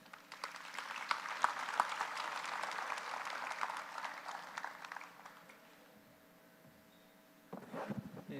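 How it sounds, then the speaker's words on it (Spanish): Conference audience at a public accounting congress in Barranquilla, Colombia, applauding steadily for about six seconds, fairly distant and even, then fading before a brief burst of handling noise. "Los recibimos con un fuerte aplauso"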